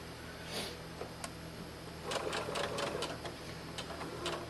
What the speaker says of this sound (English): And I'm going to sew right on out.